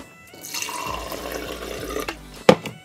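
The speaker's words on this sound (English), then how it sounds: "I measure the water out to" Water runs and splashes into a measuring cup for about two seconds, then stops with a short knock near the end.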